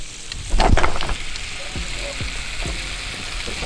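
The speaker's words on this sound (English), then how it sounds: "That's why you have to fry the prawns very well." Prawns fry in a pan with a steady, close sizzle, and a few brief clinks and scrapes rise above the hiss near the start.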